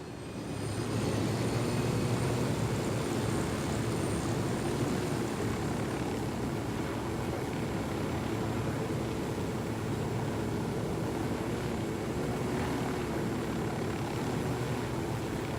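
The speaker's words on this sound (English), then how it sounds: "The drone is up." A surveillance drone flying in the tactical shooter Ghost Recon Wildlands, a steady droning hum with a faint high whine that holds at an even level throughout, with no talk.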